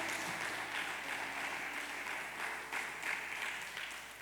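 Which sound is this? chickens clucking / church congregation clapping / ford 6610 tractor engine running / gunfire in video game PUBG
church congregation clapping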